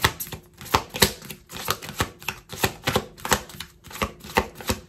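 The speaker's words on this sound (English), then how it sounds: "One more shuffle." A deck of cards being shuffled by hand, a quick run of close, crisp riffling snaps and taps in an irregular rhythm, fairly loud with no talking.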